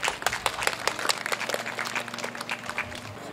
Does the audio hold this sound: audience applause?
yes